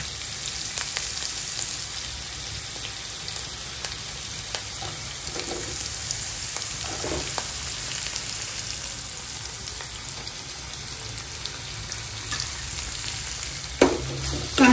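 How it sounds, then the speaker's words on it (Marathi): Onion frying in a pan over a low gas flame after garlic, with a steady close sizzle and occasional stirring scrapes throughout. "कांदा परतून घेऊया थोडा वेळ।"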